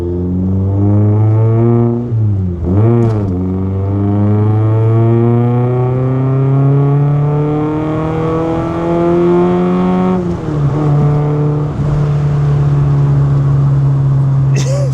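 A Rover Metro with a swapped Lotus K-series engine revs loudly from inside the cabin while driving, a strong droning note that dips sharply, climbs again, then holds through a gear change near the end.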